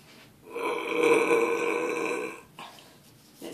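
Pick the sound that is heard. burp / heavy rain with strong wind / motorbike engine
burp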